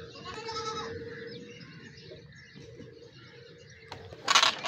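Goats on a goat farm during the daily routine, bleating calls over a busy background of farm noise and birds, ending in a louder burst of sound.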